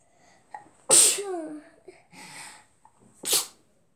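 A person sneezes loudly and close up, with a sharp burst followed by breathy sounds and then a second short sneeze-like blast.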